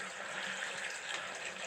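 Water runs from a tub faucet while the plumbing is tested in a 1920s duplex under rehab, a faint, continuous hissing flow with no break.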